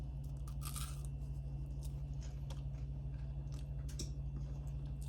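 Soft, close chewing and biting while tasting vanilla butter, a few brief crunchy clicks scattered over a steady low background hum, with no talking.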